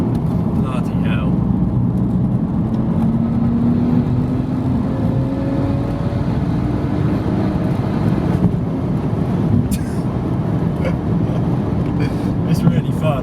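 A 486bhp E82 BMW 135i coupe with a manual gearbox pulls hard along a dual carriageway, its engine note rising steadily under constant road and wind roar from inside the cabin, with someone talking over it.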